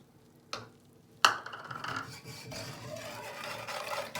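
A whisk scrapes and rubs through dry flour and starch in a pot while eclair dough is started, with two sharp knocks followed by a steady gritty stirring rasp.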